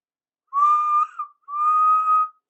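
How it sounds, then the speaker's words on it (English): A cartoon steam engine's whistle sounds in two clear, sustained toots with a short gap between them. "He whistled bravely."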